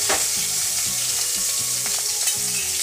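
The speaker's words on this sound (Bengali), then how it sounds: "তেল গরম হবার পর আমি মাছগুলো দিয়ে দিলাম।" Prawns frying in hot oil in a wok, a loud, dense, continuous sizzle close by, with a few soft stirring knocks and scrapes underneath and no voices.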